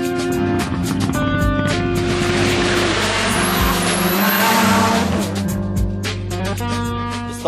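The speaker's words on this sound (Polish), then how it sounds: "Mitsubishi Lancer E-grupowy przygotowany przez Wiesława Steca" A Mitsubishi Lancer Group E rally car prepared by Wiesław Stec, running at a Polish mountain hill-climb championship, revs hard and roars past close by, its engine note climbing and falling through gear changes with a brief tire squeal.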